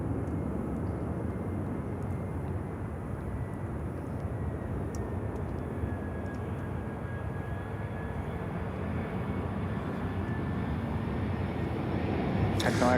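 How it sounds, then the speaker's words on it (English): Avianca Airbus A320-200 airliner from Medellin at Miami Airport, a steady broad engine roar holding loud and even for the whole stretch, with a faint thin whine drifting across the middle. "this is a 320 Avianca 320-200 from Medellin"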